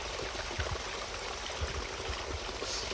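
A waterfall along a steep, rocky section of the Appalachian Trail near Zealand Hut, heard as a steady, broad rush of falling water that continues unbroken throughout.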